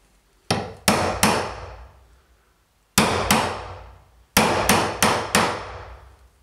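A BAHCO nail puller working nails out of a wooden pallet, with sharp hammer-like metal strikes in uneven clusters of two to four close, loud blows separated by short pauses.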